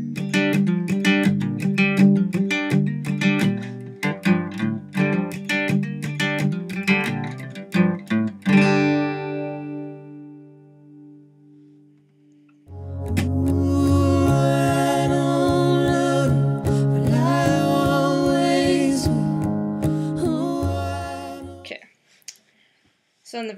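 Guitar playing the intro of a song, a run of picked and strummed notes with slides that rings out into a pause, then fuller sustained strumming resumes, close and without talk.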